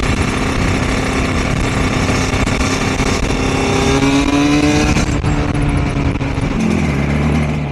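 Two-stroke Suzuki RG500 motorcycle running onboard: loud, raspy engine with rising revs and shifting pitch, then settling lower near the end, heard close and continuous.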